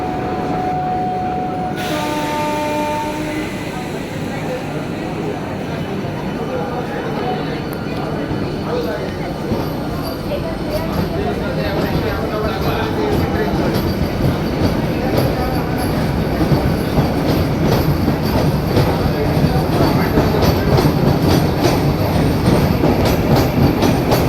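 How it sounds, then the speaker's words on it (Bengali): An AC local train starts, its doors closing, with rising motor hum and tonal whine, building into continuous rolling clatter of wheels on rails, with voices talking over it. "দেখো গেটটা বন্ধ হয়ে গেল এবার ট্রেন চালু হবে"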